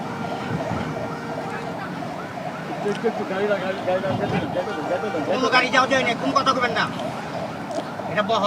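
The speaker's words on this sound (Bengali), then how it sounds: "শরীফ ওসমান বিন হাদিকে বহন করা হচ্ছে সেই অ্যাম্বুলেন্সটি আমরা এখন দেখতে পাচ্ছি" A wailing ambulance siren rises over street noise and overlapping voices, growing louder toward the end.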